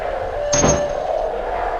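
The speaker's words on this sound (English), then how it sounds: "the door slams open" A door slams open with a single sharp, loud bang that rings briefly and fades, set against a steady low hum.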